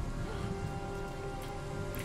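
Rain falls in the video game Mandate of Heaven, a faint, steady hiss of rainfall with no break across the short stretch.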